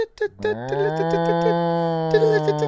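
A person imitates a cow with a long, loud, sustained moo lasting over two seconds, after a brief bit of talk.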